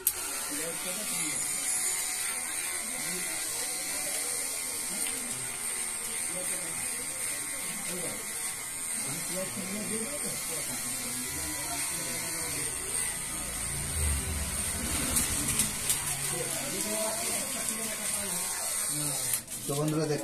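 An electric hair trimmer fitted with a number one guard buzzes steadily and close while cutting hair during a home haircut, and someone talks over the constant whine.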